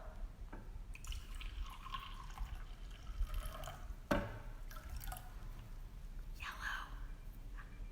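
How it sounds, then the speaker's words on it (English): Liquid pours from a pitcher in a color-changing acids and bases demonstration. A faint, dripping trickle comes in short spurts against a quiet room with soft background voices. "I want you to pour yellow."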